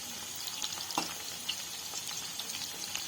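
Meat piyaju frying in a pan of oil, a faint, even sizzle with small pops and crackles throughout.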